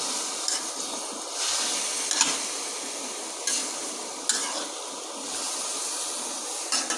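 Fried shing fish goes into a pan of frying cauliflower and vegetables, producing a steady close sizzle and hiss punctuated by a few louder bursts as pieces are added and stirred.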